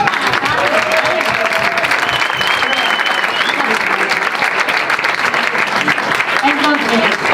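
Sustained audience applause, dense clapping with some crowd noise and a few voices calling out over it.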